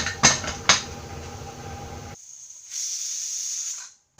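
Pressure cooker venting steam while boiling potatoes on a stovetop, a sustained hissing whistle rising after two sharp clicks and a quieter stretch, fairly close and alone without talk.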